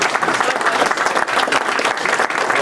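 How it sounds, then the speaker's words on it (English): Rotary club members stand and clap together at a morning meeting, a full, continuous burst of applause that stays even and close throughout. "Could I have all of you just stand up and clap?"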